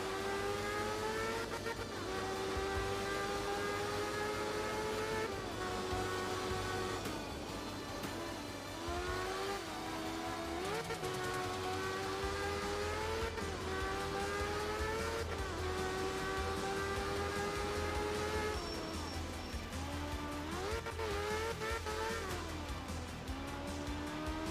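Rotary-engined rally car in the Art of Rally racing game revs steadily with rising and falling pitch as it drifts, a continuous buzzing engine tone at moderate level with no talk over it.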